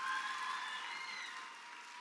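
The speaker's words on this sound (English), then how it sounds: "Give yourselves a round of applause for being selected." Audience at a youth sports program opening ceremony applauds steadily, a diffuse wash of clapping that fades slightly toward the end, heard from some distance.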